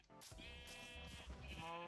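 Sheep in Minecraft bleat in a couple of wavering, nasal calls that sound close and clear, with no talk.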